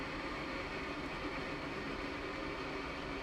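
A Panasonic Whisper FV-0811RF1 bathroom exhaust fan runs with a steady, faint whooshing hum that holds unchanged throughout.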